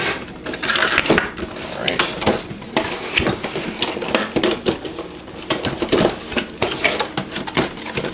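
Rapid scraping, snapping and rustling as a knife cuts open the plastic and cardboard packaging of a Logitech G930 headset, close up in a quiet room.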